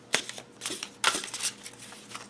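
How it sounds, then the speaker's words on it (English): Tarot cards being shuffled close up, a few quick flurries of papery flicks and riffles separated by brief pauses. "So let me see how these will shuffle."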